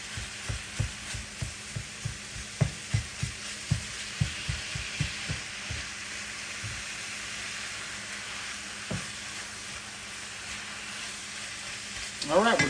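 Ground beef sizzles and browns in a hot pan, a steady crackling hiss laced with a run of regular scraping or stirring strokes over the first half, then quieter frying with a brief louder clatter at the end.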